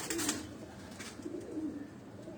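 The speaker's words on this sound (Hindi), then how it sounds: "ये लाखा कबूतर है, नर है ये" A male Lakha pigeon coos in low, soft, rolling notes, two or three short phrases near at hand over faint background noise, with no talking.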